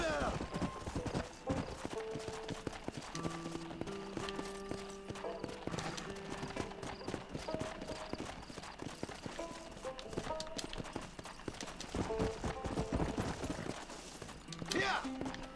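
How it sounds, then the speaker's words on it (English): Horse hooves clop and slide over sand in the Red Dead Redemption video game, a busy run of close hoofbeats with a whinny, mixed with game music and sound effects. "what I was hearing was the horse sliding on the sand"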